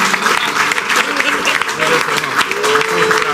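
A church congregation claps for Jesus in a dense, steady round of applause that fills the room, loud and continuous throughout, with a few voices rising faintly beneath it.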